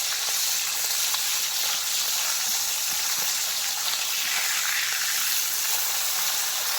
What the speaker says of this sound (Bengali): এটা গরম হয়ে গেছে, মাছটা ভেজে নেব।